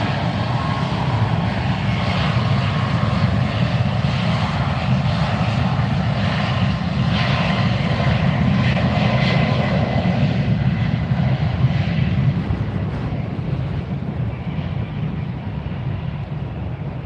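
A United Airlines Boeing 737 MAX 9 jet on its takeoff roll, a steady, loud broadband engine roar that holds throughout and gradually fades near the end.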